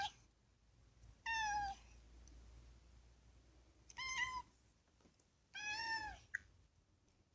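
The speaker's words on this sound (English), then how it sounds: "It's a cat." A cat meows three times, each a clear, drawn-out call separated by quiet pauses, close and distinct against faint background hiss.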